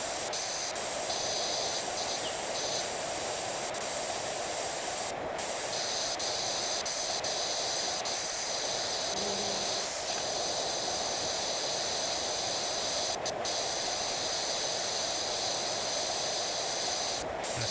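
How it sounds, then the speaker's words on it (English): A pressure washer sprays continuously in the video game PowerWash Simulator 2 while cleaning a tea room, producing a steady loud hiss with faint clicks over nearly eighteen seconds. "Spray it all down."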